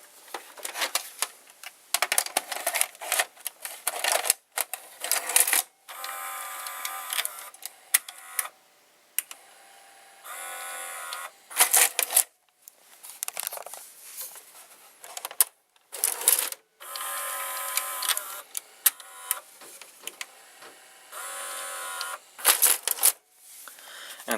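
The belt, pulley and gears of a Panasonic, Magnasonic or Sanyo VCR whir and clatter as the mechanism inserts the cassette carriage. The mechanical rattling comes in repeated close bursts with short gaps between them, and nobody talks.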